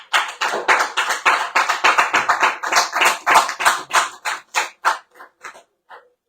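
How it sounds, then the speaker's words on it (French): Clapping from a small studio audience on a radio show, a quick run of crisp, close hand claps that thins out into a few scattered last claps. "on peut les applaudir"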